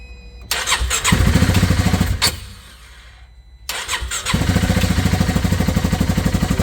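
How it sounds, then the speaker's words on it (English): Polaris Ranger 570 UTV engine cranking and catching, a loud close starter churn that fires into a rough rhythmic run, dips briefly, then restarts into a steady chugging idle after fire damage repairs. "we're gonna see if this thing starts"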